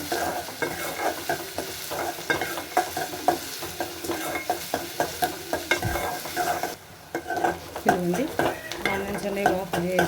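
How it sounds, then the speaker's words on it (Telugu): Onions frying in a pan until light brown, with steady sizzling and frequent stirring scrapes and spatula knocks against the pan, loud and close, with no talking. "ఇప్పుడు ఈ ఆనియన్స్ అన్నీ లైట్ బ్రౌన్ కలర్ వచ్చినంత వరకు బాగా ఫ్రై చేసుకోవాలి"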